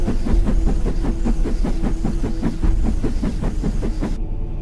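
A steam locomotive races through a tunnel, its loud, rapid chuffing beating in a steady rhythm with a rumbling undertone, cutting off abruptly near the end. No voices are heard.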